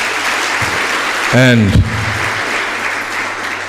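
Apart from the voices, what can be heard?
audience applause at a career fair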